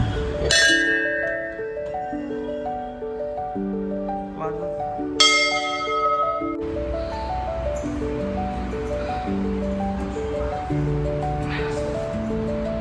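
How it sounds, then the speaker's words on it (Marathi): A temple bell at a goddess shrine rings repeatedly in a steady stream of bright metallic strikes with long shimmering tones, loud and continuous, over a noisy outdoor background. "तर घंटा"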